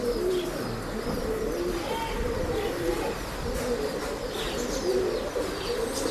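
Breeding pigeons coo steadily at a pet shop, several birds layered in a continuous murmuring drone with occasional chirps over a busy, dense room background.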